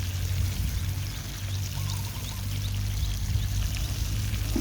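Water pours steadily onto leaf compost packed in a basket, a continuous close splashing trickle lasting the whole stretch with no talking.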